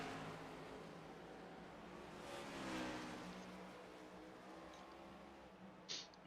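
NASCAR Cup race cars roar past on track in a continuous, fairly faint blended engine drone that swells slightly midway, heard from a distance with no voices.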